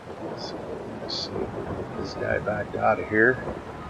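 Steady rain with rumbling thunder in Farming Simulator 22 forms a constant wash of noise, while someone talks over it throughout.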